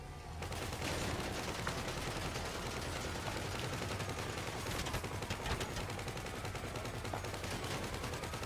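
Dense, continuous gunfire from a police shootout in GTA 5 Online, with overlapping rapid shots forming a loud, steady barrage across the whole stretch.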